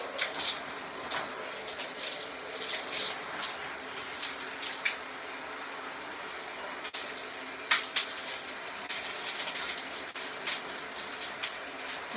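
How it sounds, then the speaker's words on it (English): Water runs from a tap during a hair rinse, a faint, steady splashing and patter with a few louder splashes, heard alone in a small indoor space. "Let's rinse this out."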